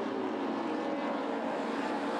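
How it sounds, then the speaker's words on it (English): A BMW Z3 race car, number 48, running in an open-class circuit race at Hampton Downs, its engine a loud, steady, close droning roar that holds for the whole stretch with no voices over it. "Here's Neville Finlay coming through. The number 48 BMW Z3"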